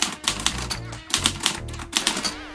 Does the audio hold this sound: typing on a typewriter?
yes